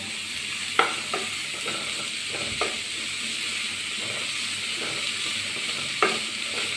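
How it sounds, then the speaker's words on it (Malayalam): Ingredients for a beef snack mixed in a small bowl: a steady low hiss with a few sharp utensil clicks at irregular intervals, close and fairly quiet, no talking. "അത് നല്ലോണം മിക്സ് ചെയ്യാം"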